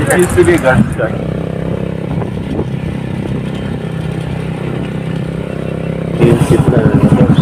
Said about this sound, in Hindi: तो ये यहाँ पे लग गई हमारी बाइक पार्किंग में।